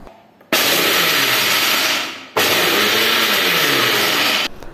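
Mixer grinder whirring loudly as it blends banana smoothie with almonds, pistachios and cashews, running steadily in two long bursts separated by a brief pause, close and alone with no talk.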